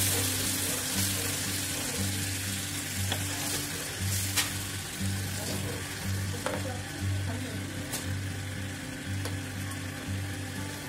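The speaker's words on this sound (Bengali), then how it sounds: "মশলা আমি জল দিয়ে দিচ্ছি, জল দিয়ে ভালো করে ফুটিয়ে নেবো।" Masala gravy for an aloo matar kabab curry bubbling and sizzling in a pan after water is added, a continuous frying hiss with a low humming tone and occasional ladle knocks, close and quiet, with no talking.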